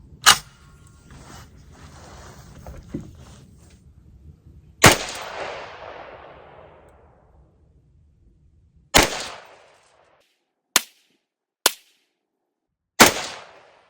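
A Panzer Arms AR57 PDW fires test shots at a range: a few sharp, loud reports spaced seconds apart, the first ones trailing off in a long echoing decay, later ones short and isolated against near silence.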